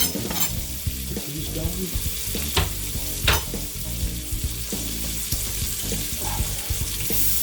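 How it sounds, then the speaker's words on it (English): Onions sautéing in a little brown butter for homemade pierogies, a loud close sizzle with spatula scrapes and knocks against the pan, and a brief spoken remark over it. "I like to do these just in a tad bit of brown butter. We'll turn around and we'll add the onions in."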